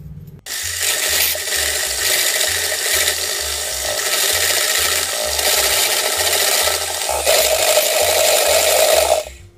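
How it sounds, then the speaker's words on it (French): Electric hand mixer whisking eggs with sugar and a pinch of salt for a cake, a loud, steady whirring buzz that runs almost without a break, with beaters rattling against the bowl. "je vais fouetter le tout à l'aide d'un batteur"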